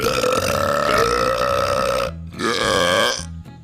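A cartoon character from Bat Pat lets out long, loud, rumbling burps in a burping contest, one sustained belch followed after a short break by a second strong one, close up and alone.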